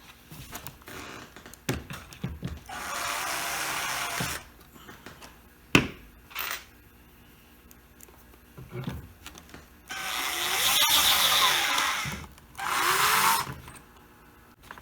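Screws being driven into a wooden tilt-top table during restoration, with several bursts of a whirring power driver separated by clicks, taps and quiet handling noises, close and fairly loud.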